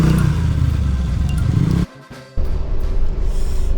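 A car engine runs loudly and accelerates as the car is moved, with a brief break in the middle before the steady roar returns.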